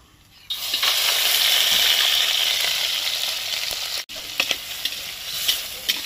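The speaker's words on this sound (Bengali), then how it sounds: "এবার দিয়ে দিচ্ছি সর্ষের তেল। প্রথমে চিংড়ি মাছটা ভেজে নেব।" Prawns dropped into hot mustard oil start a loud, close frying sizzle that holds steady, then breaks briefly and resumes with crackling spatters and stirring, no voices.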